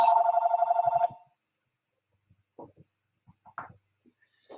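An electronic telephone rings in a steady burst of repeated trills for about a second during a Bible study, then stops, leaving faint scattered talk in the room.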